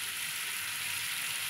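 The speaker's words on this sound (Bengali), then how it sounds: "এবার সামান্য জল দিয়ে আর একটু কষিয়ে নেব।" Slit green chilies, chili powder and cumin sizzle in hot oil in a pan while a masala for shol fish with taro and potato cooks; a steady, close hiss with no talking.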